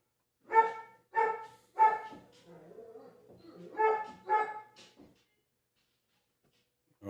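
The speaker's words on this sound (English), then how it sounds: "That's the doggos." Dogs barking indoors: three quick barks, a low whining stretch, then two more barks and fading yips, moderately close with quiet gaps and no talking.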